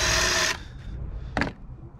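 A power drill fitted with a larger bit clears debris from a hole during a swamp cooler circuit board installation. It runs loudly for half a second, stops, and gives one brief burst soon after.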